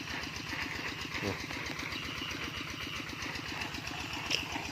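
An engine-driven water pump drains a pond outdoors, its motor chugging in a steady, even rhythm throughout, continuous and moderately close with no pauses.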